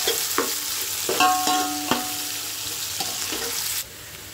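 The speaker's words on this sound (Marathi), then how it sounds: "आता कांदा परतून घेते" Onion sautéing in a pan at home, a soft steady sizzle with a few scraping stirs of a spatula against the pan, close and fairly quiet, with no talking.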